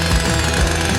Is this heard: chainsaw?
yes